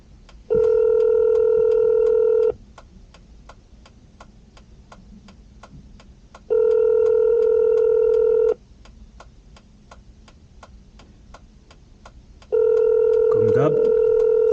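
Phone call going unanswered, three long steady ringback tones at even intervals with silent gaps between, heard close through the handset amid faint ticking background noise.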